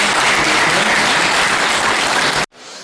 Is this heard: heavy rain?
no